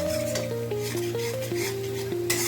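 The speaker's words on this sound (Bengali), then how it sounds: "যতক্ষণ না তেল ছাড়ছে ততক্ষণ পর্যন্ত এই মিশ্রণটি এবং টমেটো আদা ভালো" A spice mixture with tomato and ginger is stir-fried in oil for a Bengali bhetki fish curry with potato and cauliflower, a spatula scraping the pan in quick repeated strokes over a soft sizzle while background music plays.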